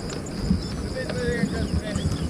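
A horse on a trail, ridden down the middle of the road, gives off a few soft, irregular hoof clops close by, set against steady wind and outdoor noise.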